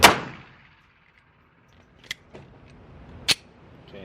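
A Glock 19 Gen 5 pistol fitted with a compensator fires at an indoor range: one sharp, loud shot opens, followed by two further short cracks a second apart, with quiet between.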